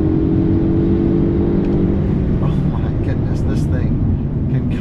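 A Polestar 1 car pulls hard after a downshift to third gear, its steady engine and drivetrain drone loud and continuous throughout, with faint higher whines rising later.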